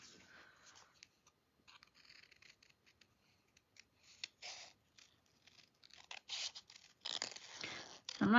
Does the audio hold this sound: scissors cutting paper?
yes